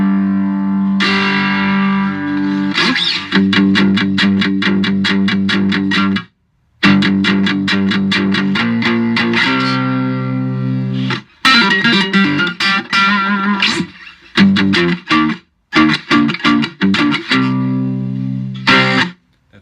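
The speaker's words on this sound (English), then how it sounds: "That's a distorted sound." A three-string cigar box guitar with a piezo pickup played through heavy distortion, loud fuzzy chords and riffs in bursts with abrupt stops and some squealing, plus reverb and echo trailing off between phrases.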